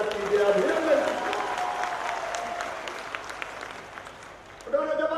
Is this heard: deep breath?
no